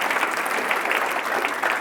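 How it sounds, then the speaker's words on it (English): Audience applause at a city's State of the City address, a brief even wash of many hands clapping together, fairly loud and continuous throughout. "Let's give Lynn and her library folks a round of applause"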